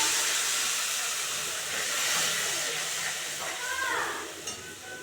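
A paste of onion, ginger, garlic and green and dried chilli sizzles in hot oil in a pan, giving a continuous hissing, steamy crackle at moderate level with a brief brighter sizzle near the end.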